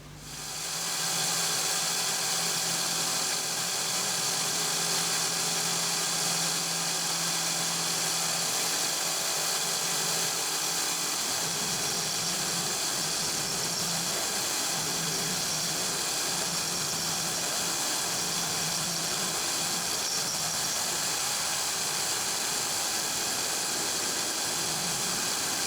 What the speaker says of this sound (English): So we'll go over to the CNC mill now, do this part.